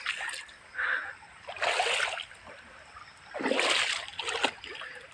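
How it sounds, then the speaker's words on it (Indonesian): Bare feet wade through a river, water splashing and sloshing in several bursts, close and fairly loud, with quieter trickling between steps. "Ya, kita nyebrang di sungai."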